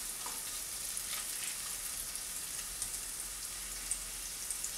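Chopped garlic fries in a pan while a masala courgette dish is being cooked, giving a quiet, steady sizzle with a few faint crackles and pops scattered through it and no talking.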